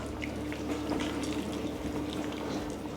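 Beef broth pours into an Instant Pot with a soft, continuous liquid trickle and splashing, faint and steady for a few seconds.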